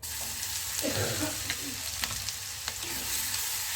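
Steady sizzling of ginger, chilli and garlic paste with a pinch of asafoetida frying in hot oil, with a soft crackle throughout and occasional light scrapes of a spoon.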